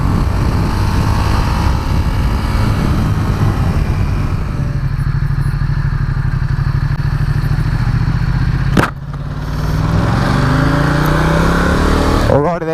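A Ducati XDiavel motorcycle rides under heavy torque, its engine a loud, close, throbbing drone with a rough low pulse, then a brief thump and a rising rev as the bike pulls away again.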